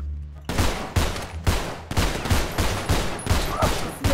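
Gunfire in the video game GTA V on a FiveM server, a fast run of about eight sharp, loud shots at a steady half-second rhythm.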